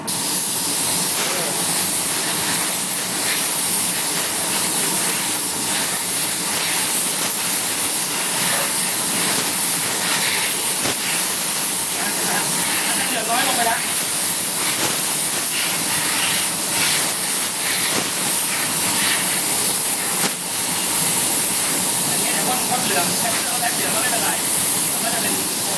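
Steady broadband hiss of a spray gun applying paint to a chrome alloy wheel, continuous and fairly loud throughout with slight fluctuations, and faint voices in the background.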